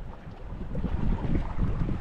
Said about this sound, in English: Windy, a little bit sunny.